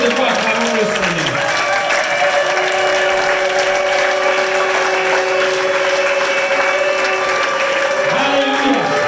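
Congregation at a Cameroonian prayer night clapping and cheering in a sustained, loud wash of applause, with a voice calling out at the start and again near the end.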